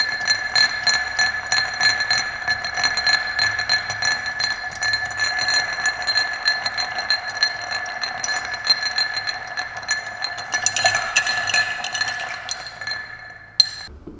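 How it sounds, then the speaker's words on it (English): Ice clinking and ringing against a mixing glass as an Old Fashioned is stirred, a steady fast rattling chime that continues for about thirteen seconds before stopping with a final clink. "Then we stir for 15 to 30 seconds."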